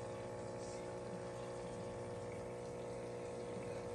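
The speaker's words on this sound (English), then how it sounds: "To get a better look, you can look inside of the tank itself. See that water? It's coming in." Water flows steadily into the tank of a miniature working toilet as it refills. The sound is a continuous even hiss and rush, fairly faint, with no speech.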